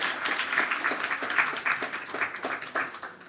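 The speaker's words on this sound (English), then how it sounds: "Please have an applause for Katarina." An audience at an awards ceremony applauds in a sustained, somewhat uneven round of clapping, with individual claps audible in the mix at moderate loudness.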